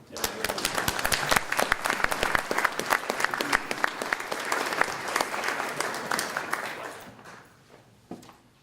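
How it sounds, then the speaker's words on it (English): Audience members at a conference session applaud together, sharp individual claps crowding into a lively, steady burst that gradually fades out over the last couple of seconds, leaving a few stray claps. "I want to give all of us a round of applause"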